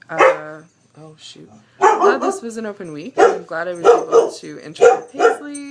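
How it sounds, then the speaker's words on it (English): A pet dog barks at someone on the sidewalk in a few sharp bursts near the microphone, mixed in with someone talking over it. "I'm sorry for my dog barking."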